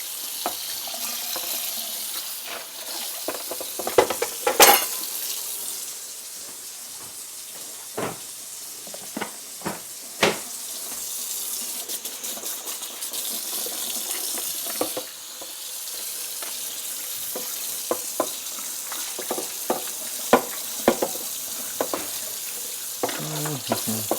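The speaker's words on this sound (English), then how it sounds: "We're just gonna rinse it out for now." Water runs steadily from a kitchen tap while a dish is rinsed out beneath it, a continuous hiss and splash with scattered clatters and knocks of the dish against the sink.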